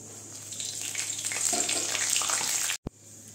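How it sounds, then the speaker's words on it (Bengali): Whole cumin, bay leaf and dried chilli sizzle steadily in hot mustard oil in a kadai for Bengali papaya dal, a continuous close hiss that cuts off abruptly near the end. "কড়াইতে আমি সরষের তেল দিয়ে দিয়েছি, তেলটা গরম হয়ে গেছে। এর মধ্যে ওই যে গোটা জিরা, তেজপাতা, শুকনো লঙ্কাটা আমি দিয়ে দিচ্ছি।"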